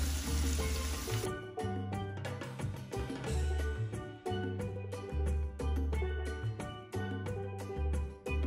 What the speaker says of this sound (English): So you put it into your frying pan.